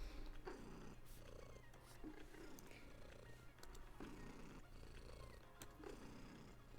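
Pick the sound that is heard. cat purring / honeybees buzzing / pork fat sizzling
cat purring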